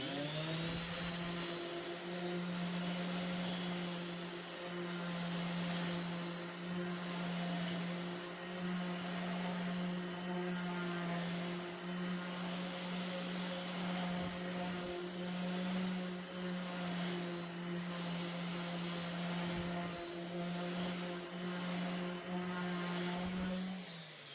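A power sander whines steadily and loudly for the whole stretch, a constant motor drone with no pauses and no talking.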